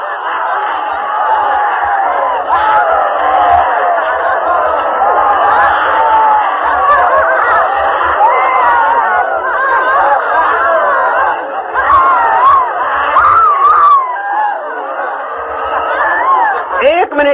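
A group of people shouting, screaming and laughing together during Osho active meditation, a dense loud continuous crowd clamor of overlapping voices sustained throughout.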